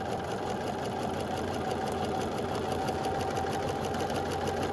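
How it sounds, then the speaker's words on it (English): A sewing machine stitches straight along a line for a paper-pieced quilt block, humming in a steady, rapid mechanical whir at an even pace from start to finish, close and alone without talk. "So we're just going to stitch right along this line."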